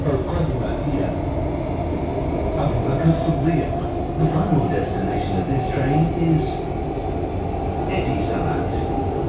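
Dubai Metro train in motion, heard from inside the car as a loud, steady rumble and rail roar with rhythmic clattering, while a station announcement voice speaks over it.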